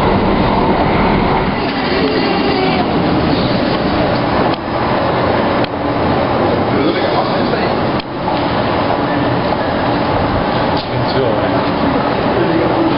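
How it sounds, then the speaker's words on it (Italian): Copenhagen Metro train running, a loud continuous rumble and roar of wheels on rail with rhythmic clicks at joints, heard from close by, steady throughout. "Copenhagen Metro."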